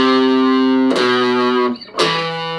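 Distorted electric guitar playing section A of the riff, two sustained gritty notes with a brief gap between them, loud and close with no talk.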